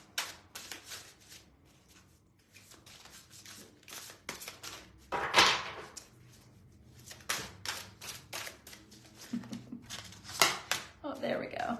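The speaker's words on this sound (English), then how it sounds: "This deck is so hard to shuffle." A tarot deck being shuffled, the stiff cards making repeated close riffling and rustling bursts in uneven rhythm, with a loud flurry midway and quieter handling between.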